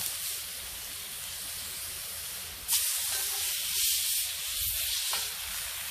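Burgers hissing on a hot Blackstone griddle, a steady close sizzle that surges louder partway through as the patties are flipped, with no talk over it.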